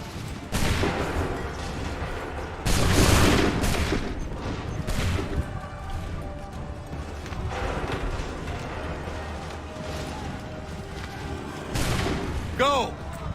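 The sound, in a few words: soldiers firing a musket volley in Assassin's Creed III video game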